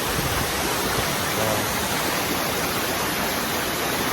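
The Tujuh Bidadari waterfall in North Aceh roars steadily, a dense, unbroken rush of falling water that stays loud and constant throughout.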